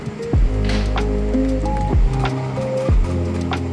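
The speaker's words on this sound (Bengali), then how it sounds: "এবার এই নুন আর চিনিটা এঁচোড় আর আলুর সঙ্গে ভালো করে মিশিয়ে দিচ্ছি।" Salt and sugar are stirred into raw jackfruit and potatoes in a pan, with repeated close squishing, scraping strokes and soft clatter recurring roughly every second.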